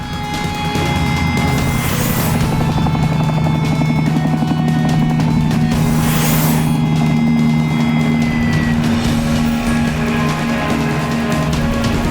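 A steady mechanical whir with a low buzzing hum runs continuously, loud and close, like a small toy helicopter's motor and rotor spinning.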